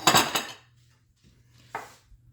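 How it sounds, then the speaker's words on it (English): A utensil stirs a little habanero into deviled egg mix, giving a short, loud scraping burst against the dish, a quiet pause, then a second brief scrape. "I'm going to mix that in with that little bit of deviled egg mix."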